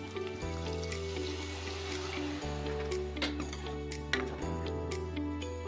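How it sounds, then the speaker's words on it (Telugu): Water pours briefly into a plantain and gongura curry in a pan, a soft splashy rush under steady background music with a faint clink. "దీంట్లో కొంచెం వాటర్ వేసుకుందాం"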